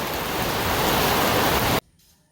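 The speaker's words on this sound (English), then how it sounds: "it rained pretty hard for about 1 hour straight" Heavy tropical rain in the Philippine rainy season: a loud, steady broadband downpour hiss that holds evenly, then cuts off abruptly near the end, leaving near-silence.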